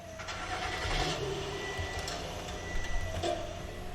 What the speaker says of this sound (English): Now I'm gonna start the vehicle up for you guys.